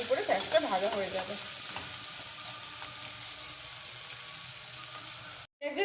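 Onions frying with a little salt in a pan of oil, a steady close sizzle with some stirring early on, running evenly before a brief pause.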